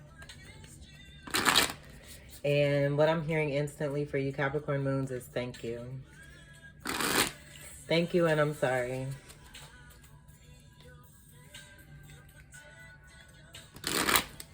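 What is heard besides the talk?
shuffling Cosmic Tarot deck cards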